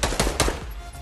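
Rapid gunfire in Fortnite, a few sharp close shots in quick succession early on, then fading into a low ambient rumble.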